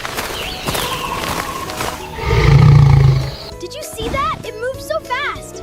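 A voice imitates a lion's roar in a children's zoo story, one drawn-out growling roar swelling in the middle, with narration before and after.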